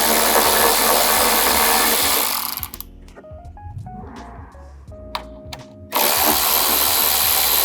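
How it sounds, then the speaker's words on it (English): Power tool driving a T25 Torx bit to remove a cover on an Audi Q5, loud continuous whirring that stops for a few seconds of light clicks and handling, then starts again at full strength. "Now to get this cover off, we're just going to use our T25 torque bit."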